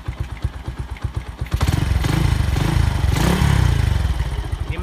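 A Honda Astrea motorcycle engine fitted with a stock Supra FI exhaust runs close by, first a loping idle of distinct thumping pulses, then revved into a louder, rougher continuous roar that rises and falls.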